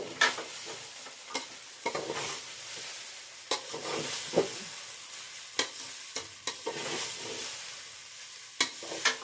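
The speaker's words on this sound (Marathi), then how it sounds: "चांगले भाजू दे पोहे" Flattened rice (poha) and chillies dry-roast in a pan, a soft continuous crackle broken by repeated stirring scrapes and clatters at close range.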